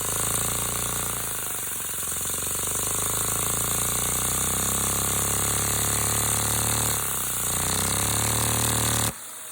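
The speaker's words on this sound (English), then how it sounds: "This Hinge valve engine is a good example." A small model hinge valve engine runs in a workshop, a loud continuous buzzing mechanical clatter with a steady high whine that dips briefly twice before cutting off abruptly near the end.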